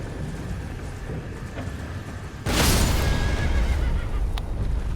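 A horse in the video game Elden Ring gives a sudden loud whinny midway through, following quieter ambient game sounds, with no talking.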